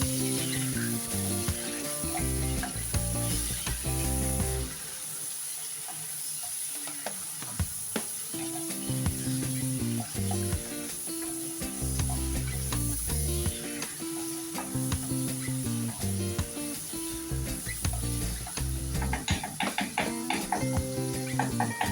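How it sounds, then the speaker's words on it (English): Ackee and saltfish frying in a pan on a Jamaican stove, a continuous sizzle with intermittent stirring scrapes, close and steady under a constant tonal background throughout. "Give it a stir."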